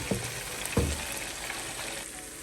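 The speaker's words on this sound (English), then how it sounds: "now it's time to add the onion." Onion goes into a pot of marinated lamb for Senegalese mechoui, where it crackles in a steady, moderate sizzle marked by two brief knocks near the start.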